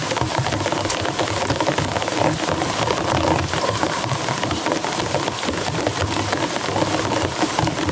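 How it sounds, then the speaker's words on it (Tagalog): Heavy rain pours down in a dense, constant hiss and patter on surfaces, loud and unbroken throughout with a low rumble underneath. "Maralakas na ulan ba?"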